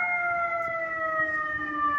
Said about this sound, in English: here's a sound that you hear day and night, everywhere in New York, the sound of the siren.